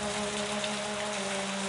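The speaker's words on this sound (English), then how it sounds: "Just a drizzle." Light drizzle in an Agatha Christie island game, a soft, steady hiss of rain throughout, with no talk.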